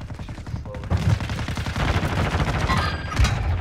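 Dense, sustained automatic gunfire and explosions fill a Call of Duty Warzone 2 match, a continuous loud barrage.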